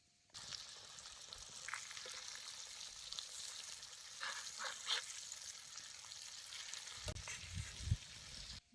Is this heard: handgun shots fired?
no